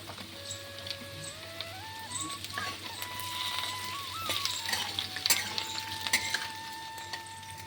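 Sweet potato and pumpkin fry in a pan for khichuri bhog, a steady close sizzle with scattered stirring scrapes and clinks, and no talk.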